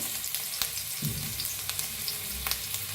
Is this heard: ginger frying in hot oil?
yes